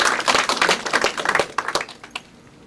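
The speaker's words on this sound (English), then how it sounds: "Round of applause, please" An audience claps to welcome a university professor emeritus to the stage at a public lecture, with brisk, fairly close applause that thins out and fades near the end.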